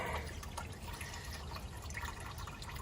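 Green coolant dribbling out of the cooling system of an old MGB, a steady close wash of trickling, splashing liquid that runs continuously without pause.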